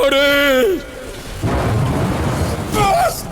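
A dramatized thunderstorm with hail from the plagues of Exodus: a harsh, broad roar of rumbling thunder and pelting downpour fills the middle, and a voice speaks loudly at the start and again near the end.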